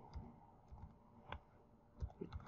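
Soft, sparse keystrokes on a computer keyboard as test points are typed into an Excel data sheet, quiet irregular clicks in small clusters.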